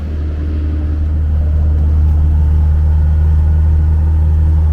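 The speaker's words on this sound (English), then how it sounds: "Let's turn this on. Push to start. It's a cold start." A 2022 Land Rover Discovery R-Dynamic S P360 engine after a push-button cold start, settling into a steady, loud low rumble with a constant deep idle hum throughout.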